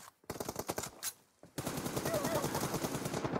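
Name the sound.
gunfire in a shooting video game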